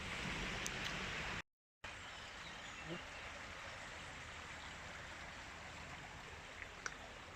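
A bubbling stream flows in a wooded nature reserve near Oakamoor, North Staffordshire, a steady close wash of running water that continues throughout, broken by a brief dropout.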